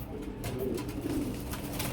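Breeding pair of Gorra pigeons cooing in a loft, soft low throaty coos repeating close by over steady background noise, with no talking.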